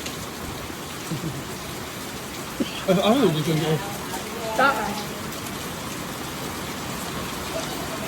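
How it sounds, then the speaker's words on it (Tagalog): Heavy rain pours down in a steady, close hiss that runs the whole time, while people talk over it. "Ang lakas ng ulan sobra."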